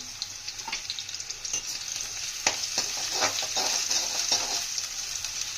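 Sliced onions fry in hot oil for beresta while being stirred, a bright continuous sizzle with crackles and occasional scraping, close and steady, without talk.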